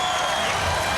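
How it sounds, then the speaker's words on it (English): Volleyball crowd at a 1996 AVP beach final in Clearwater cheering and roaring after a missed championship serve; a dense, steady wall of noise with no pause across the moment. "Crowd goes crazy."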